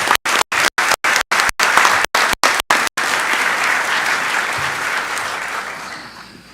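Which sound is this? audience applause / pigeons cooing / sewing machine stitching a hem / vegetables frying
audience applause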